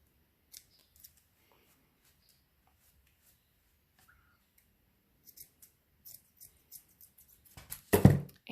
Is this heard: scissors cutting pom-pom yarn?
yes